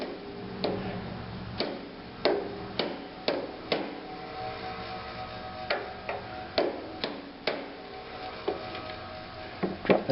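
A metal socket is worked onto a lawnmower's starter gear, making a string of sharp taps and knocks at uneven intervals, close and fairly loud with no talking.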